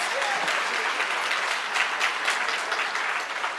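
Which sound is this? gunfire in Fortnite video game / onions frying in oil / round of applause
round of applause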